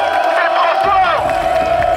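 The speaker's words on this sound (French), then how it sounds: "applaudissez-vous, c'est génial." Roadside spectators at the Tour de France cheer and whoop as a dense crowd, loud and close, with a sustained roar and shouted voices throughout and no distinct clapping.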